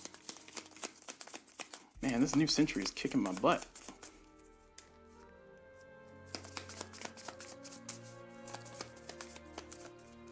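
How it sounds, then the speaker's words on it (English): A deck of board game cards is shuffled in several quick riffles and rapid flicks, with someone speaking briefly between bursts of card handling. "we're going to go ahead and shuffle these back into the deck and draw 2 new ones"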